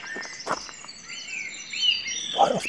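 A song thrush sings in a car park during the dawn chorus, clear and close, with bright repeated phrases over a quiet background of other faint birds.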